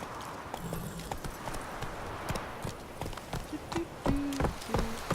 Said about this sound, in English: It actually sounds like I just walked over a bridge on a horse.